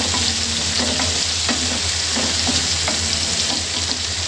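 Ginger and spice masala stir-frying for chicken curry, with a constant loud sizzle and regular scraping strokes of a spatula against the pan, close by and with no talking.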